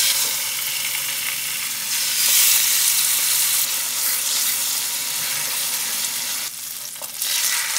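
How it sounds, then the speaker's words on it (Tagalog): Pork chop seasoned with salt and pepper fries in hot oil, giving a loud, steady, close sizzle that dips briefly near the end. "Then, pirituhin natin to."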